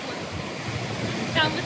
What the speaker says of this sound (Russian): Какие волны мощные.